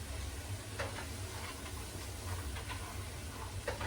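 Butter melting as it is stirred into a soup pot for chicken, mushroom and rice soup, a soft continuous sizzle with light scraping strokes of a spoon, close and fairly quiet, no talk.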